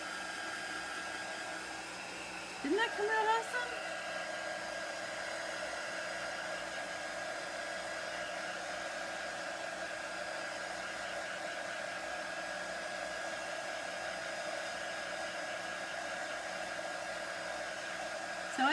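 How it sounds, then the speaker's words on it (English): A hair dryer blows steadily on a watercolor painting for most of the span, a constant close whooshing hum, with a brief voice and a short bump near the start. "I'm going to hit that with my dryer for just a moment."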